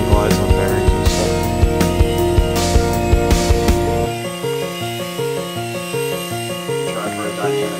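A machined-metal RC mini helicopter with bearing-mounted parts in flight, its motor and rotor giving a loud, steady tonal whine with a rhythmic pulsing beat that shifts in pitch partway through, close by.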